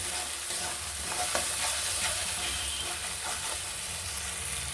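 Spices with turmeric and salt are stirred in hot oil in a pan, a steady close sizzle with scraping strokes of the spatula at an irregular pace.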